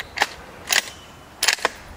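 Sharp gunshots from a bolt action rifle that takes standard AR magazines, fired at steel plates outdoors, with four short cracks spread across the moment, each burst bright and quick, one pair close together, no talking.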